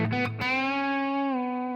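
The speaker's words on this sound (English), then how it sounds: "So what you're hearing is only the amp's overdrive." A sustained, heavily overdriven electric guitar note through a Marshall ST20H amp, with no pedals or boost, rings out after a couple of quick picked hits, held steady with thick harmonic distortion.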